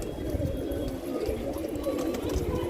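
A Kalduma pigeon coos on a rooftop, its low, throaty, rolling coos repeating continuously and close by.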